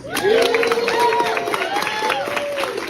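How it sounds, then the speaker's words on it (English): A crowd at a live event lets out whooping, voiced cheers with scattered claps, loud and continuous for about three seconds. "I honestly think you guys all deserve to give yourselves a round of applause"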